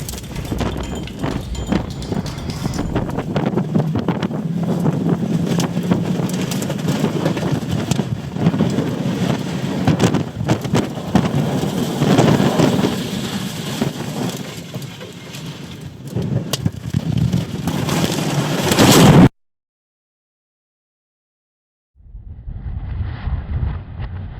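A tornado storm seen from inside a storm-chasing vehicle: roaring wind buffets the microphone and rain pounds steadily for nearly twenty seconds, then cuts to sudden silence before faint noise returns.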